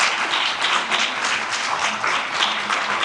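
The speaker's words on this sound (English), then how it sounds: "let's give her a round of applause" An audience at a motivational talk gives a sustained round of applause, a steady, loud wash of many hands clapping close by, no voices over it.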